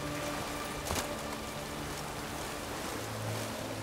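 Steady rainfall in The Witcher 3 makes a faint, continuous hiss of drops spattering on surfaces, with a soft low rumble underneath and no speech.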